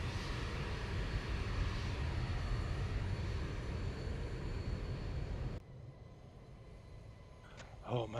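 A Boeing 737 engine in the X-Plane flight simulator, Zibo mod, roars steadily and loud, then the level drops sharply to a quieter cabin hum, with a brief faint voice near the end.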